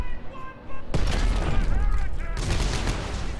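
Weapon fire in Dead Space 3 crackles and booms in a dense burst after a brief lull, loud and close, with a voice speaking over it.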